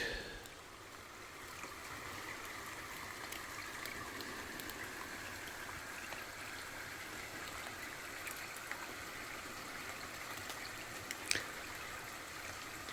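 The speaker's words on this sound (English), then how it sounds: "I like the sound of this creek as much as anything." A small creek flows beneath a little trail bridge beside the Chetco River, a steady, close rush of water running throughout with no voices.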